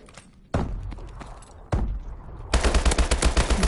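Video game gunfire aimed at the player during a multiplayer match, with sudden loud bursts of shots at the start and middle, building into dense, continuous rapid automatic fire at the end.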